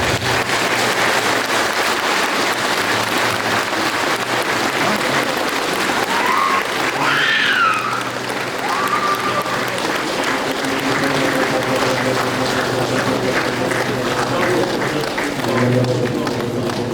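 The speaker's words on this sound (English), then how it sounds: "Give a wonderful clap of it." Audience at a healing service clapping, a loud, continuous wash of applause sustained throughout, with brief shouts or voices rising through it midway.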